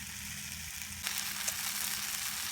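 Steady, close sizzling of hash browns and fish frying in a hot multi-coated GSI frying pan on a folding firebox, a dense crackling hiss that holds constant throughout with a few brief pops.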